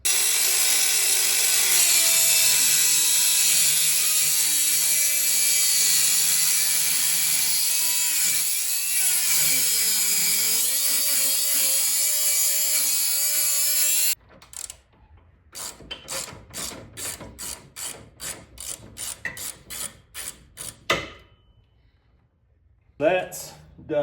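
Steel crash bar tubing for a Harley bagger being cut just past its bend, a loud steady grinding whine for about fourteen seconds, then a series of short choppy bursts and rattling as the cutting winds down.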